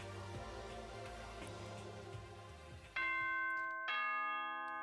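After a stretch of low music, a ceiling chime in the video game Danganronpa rings out loud and clear with two bright ding-dong tones, each one ringing on and slowly fading.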